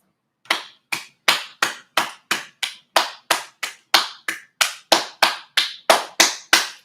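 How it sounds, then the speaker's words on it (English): Steady hand clapping, about sixteen sharp, evenly spaced claps close up, alone with no talking. "BC. Clap your hands."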